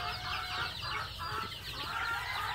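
Chickens cluck on a Vietnamese poultry farm, 35-day-old birds giving a busy overlapping chorus of close clucks and chatter against steady barn noise.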